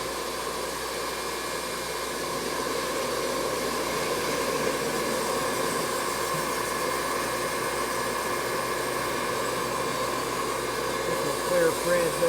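A saw blade cuts steadily through a small log, guided by a roller kept close to the blade, giving a loud, continuous mechanical whine with a rougher rise near the end.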